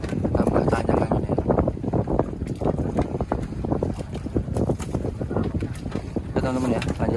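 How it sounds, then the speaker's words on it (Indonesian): Strong wind buffets a fishing boat at sea, a loud, steady roar of gusts and microphone buffeting mixed with water noise, with occasional faint voices underneath. "Tambah tajam anginnya."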